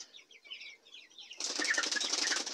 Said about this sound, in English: Notice the bird is trying to fly up inside the feed.